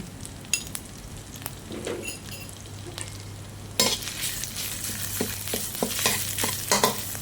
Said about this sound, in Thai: ผัดเครื่องแกงให้หอมก่อน